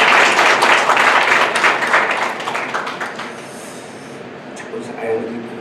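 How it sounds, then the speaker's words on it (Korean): A church congregation claps and applauds warmly, loud and dense at first, then thinning out and fading as the clapping winds down. "박수로 한번 뜨겁게 축하하겠습니다"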